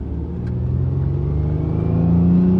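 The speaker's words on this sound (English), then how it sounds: "So let's close the hood and take it for a spin." A Toyota Sienna van accelerates uphill, its engine rumble and whir rising steadily and growing louder over a couple of seconds, heard from inside the cabin with no talking.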